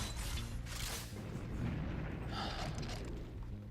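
A TNT blast in the shooter game Doom, Back to Saturn X mod, rumbles as a faint, muffled explosion with a sustained low roar lasting several seconds.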